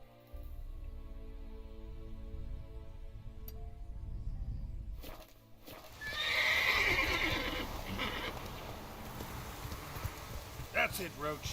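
A horse named Roach whinnies in The Witcher 3: Hearts of Stone, a loud neigh rising midway through, with hoof clip-clop and game music underneath and someone talking over it.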